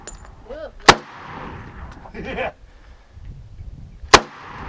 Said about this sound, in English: That's a big gun.